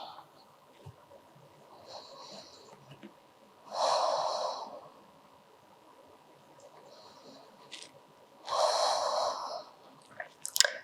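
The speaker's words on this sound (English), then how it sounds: "3 deep breaths here." Slow deep breathing during a beginner yoga stretch, two long audible nasal breaths spaced several seconds apart, close and fairly soft, with faint small noises between them.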